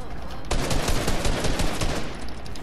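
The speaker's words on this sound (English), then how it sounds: "Somebody shooting at me." Rapid bursts of gunfire in a Fortnite match, loud and close, with clustered shots rattling almost continuously from the half-second mark to the end.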